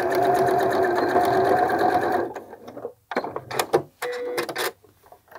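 A domestic sewing machine stitches a fly zipper, humming in one steady run, then pausing and firing off several short stitching bursts at close range.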